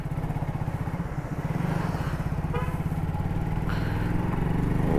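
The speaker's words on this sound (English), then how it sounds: "Even today, after 16 years, you don't feel like you're riding a motorcycle which is 15 or 16-year-old." A Hero Honda Super Splendor 125cc motorcycle engine runs steadily while riding on a highway, its low, even putter continuous and close throughout with a slight rise in level toward the end.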